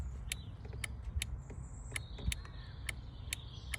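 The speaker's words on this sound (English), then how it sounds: "So I'm clicking the switch and I'm getting another click from inside the door panel." Faint repeated clicking from a window module inside a car door panel as the power window switch is pressed, sharp isolated ticks at irregular intervals over a low steady hum.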